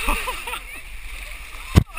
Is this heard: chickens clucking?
no